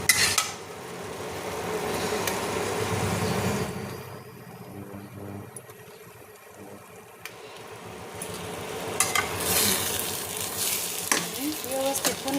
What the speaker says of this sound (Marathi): सगळ्या वांग्याला मसाला लागेल असं हलवून घेतलेलं आहे.